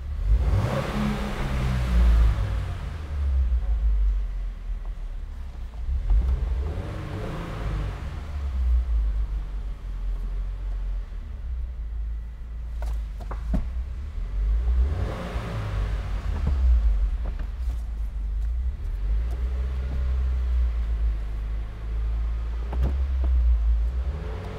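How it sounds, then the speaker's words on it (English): A car engine revs repeatedly while driving with the window rolled down, rising and falling surges every few seconds over a steady low road rumble, close and fairly loud with no talking. "It's for the revving of the engine."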